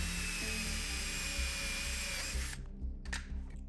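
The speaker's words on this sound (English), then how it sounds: "I'm gonna use my offset drill because it's not enough room to get a drill in there with the bit." An offset drill bores holes in the seat of a Rans S-21 aircraft during seat assembly, a loud, steady high-pitched whine with a low motor rumble that cuts off abruptly near the end.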